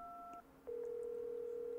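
Dialing a telephone in the game Resident Evil 7 plays a brief dual-tone keypad beep, then a steady ringing or connecting tone that holds on evenly, quiet and close, with no speech.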